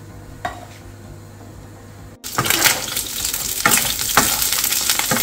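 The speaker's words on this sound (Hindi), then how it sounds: "अभी यहाँ पे मैं मीट को थोड़ा सा ब्राउन कर रही हूँ।" Meat browns in a hot pan, a sudden loud sizzle bursting in after a quiet moment and crackling on steadily up close, with no talking.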